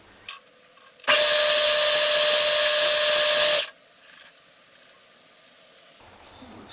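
A lathe undercuts thread relief on a small piston for a Stuart Turner No. 8 model mill engine, a loud steady high whine lasting under three seconds that starts and stops abruptly amid quiet workshop background.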